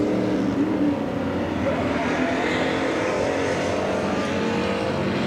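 Figure 8 race cars circle a dirt track, their engines a continuous rumbling drone at moderate distance, steady with no distinct passes or talk.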